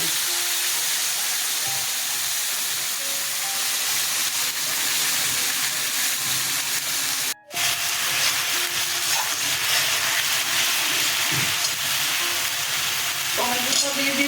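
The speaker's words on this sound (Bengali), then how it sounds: "কাঁচা লঙ্কা ফোড়নে দিলাম, কালো জিরা দিলাম, পেঁয়াজ লঙ্কা আদা ছেড়ে দিলাম" Onion, green chili, ginger and black cumin sizzle in hot oil with a loud, dense, continuous frying hiss, broken by one momentary gap and a few faint stirring scrapes.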